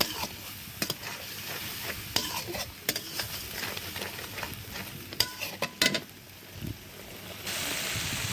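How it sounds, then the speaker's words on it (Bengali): Tiger prawns sauté with dried chili powder in a pan: a continuous soft sizzle broken by scraping stirs and occasional utensil clinks, close by, without talk. "এবার এগুলো কষিয়ে নিতে হবে।"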